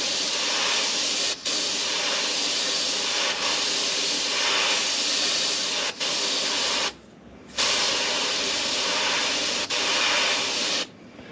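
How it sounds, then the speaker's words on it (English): Steady broadband hiss of compressed air from a spray brush used while refinishing a Taylorcraft aircraft instrument panel, loud and continuous with a few brief dips and two short pauses. "So that's just air coming out"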